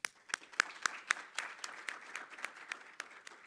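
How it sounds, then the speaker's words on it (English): Applause for a sponsor at a natural resource industries event, a small audience clapping steadily with a few crisp, close claps over a thinner spread of hands throughout. "please, a great round of applause to our co-presenting sponsor,"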